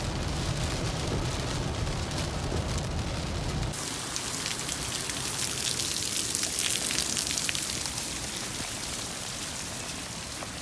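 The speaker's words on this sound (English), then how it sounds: "It is pouring down rain right now." Heavy downpour pouring down hard, a dense continuous roar of rain hitting surfaces, loud and steady throughout, growing brighter and harsher partway through as the rain intensifies.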